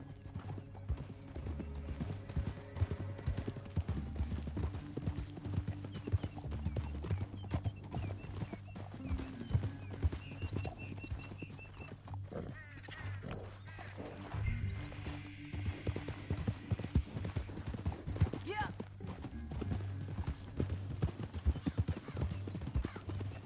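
Horses in Red Dead Redemption 2 clip-clop steadily along a canyon trail, hoofbeats continuous and close, with an occasional whinny and low game music and faint voices underneath.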